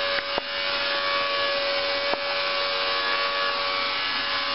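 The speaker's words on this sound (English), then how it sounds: "using our trusty pump through 100 feet of food grade tubing" A trusty wine pump runs steadily, pushing blended wine through 100 feet of food grade tubing from the cellar: a constant, even motor hum and whine with a couple of faint clicks, close and without voices.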